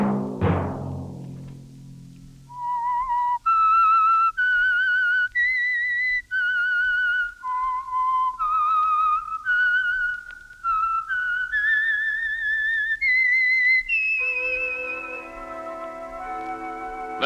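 A melodic human whistle plays the theme of The Whistler, a Signal Oil mystery radio program: a long sequence of clear, loud sustained notes heard alone after a brief low opening sound.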